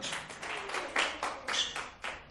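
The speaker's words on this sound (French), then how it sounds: "Nous l'applaudissons bien fort" Audience applause at a live show, a series of bursty clapping swells rising and falling over a couple of seconds, moderately close with no voices.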